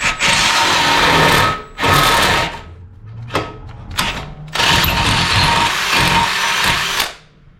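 Power drill boring into a front Crown Victoria axle assembly for a 1964 Ford F100, whining loudly in several bursts of one to two seconds with short pauses, then a long final run.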